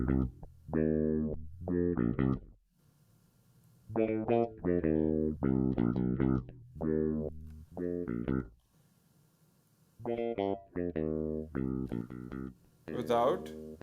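Bass guitar run through the BassBalls distortion plugin, a growling, fuzzy tone with a vocal-like filtered quality, played in several rhythmic phrases with short gaps between them.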